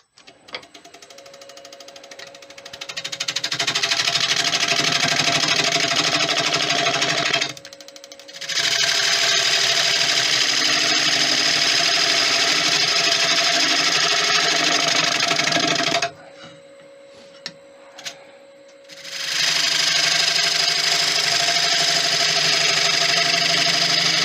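A woodturning lathe shapes the edge of an oak bowl with a steady whirring hum and a rough scraping of the tool, in two close, loud cutting passes separated by quieter gaps.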